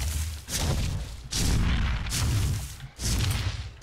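Gunshots in Ark: Survival Evolved, four loud booming blasts spaced about a second apart, each with a sharp crack and a rumbling decay.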